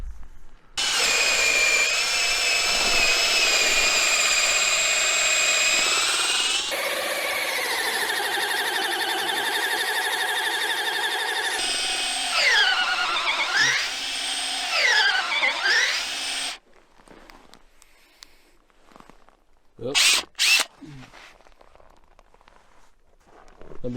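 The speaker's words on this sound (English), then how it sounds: "so we got both holes drilled through" A power drill whines loudly and steadily for about fifteen seconds, its pitch wavering as it bores through wood on a farm in Siberia, then stops, leaving a few short bursts.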